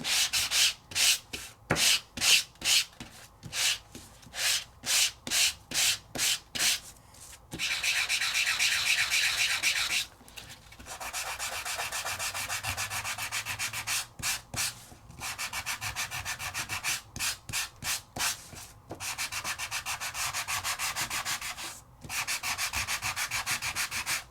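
Paper craft die-cut elements being sanded by hand, a steady scratchy rasp in quick short strokes with brief pauses, then longer continuous runs, close and fairly loud with no talking.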